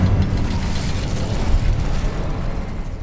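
An Incendio fire spell from Hogwarts Legacy bursts out as a loud, sustained rumbling whoosh of flame that roars evenly for a few seconds.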